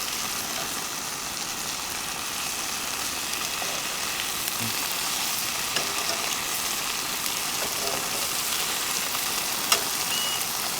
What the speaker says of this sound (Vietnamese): mình chiên cho nó vàng hai mặt để làm cái gì?